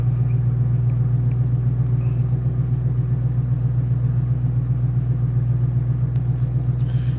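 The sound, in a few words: Dodge Demon 170 engine running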